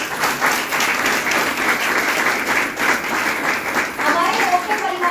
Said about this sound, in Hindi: एक बार शानदार ताली इन सब लोगों को